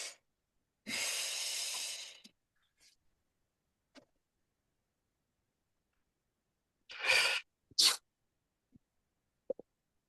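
Breathwork inhalation drawn in through the nose, one long steady sniffing breath followed later by a couple of shorter sharp nasal breaths, close and otherwise quiet.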